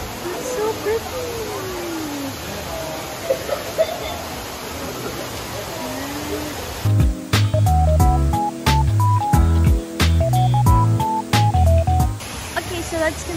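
Indoor waterfall in the Cloud Forest conservatory at Gardens by the Bay, Singapore: a steady, close rushing roar that fills the first half, with voices over it, before music and talk take over.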